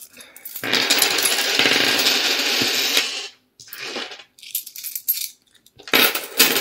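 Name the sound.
counting coins of loose change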